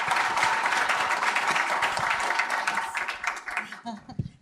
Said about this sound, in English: if everyone could give a big hand of applause to Ashish